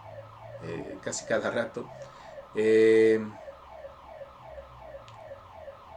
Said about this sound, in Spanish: disculpen ustedes, la alarma suena ahora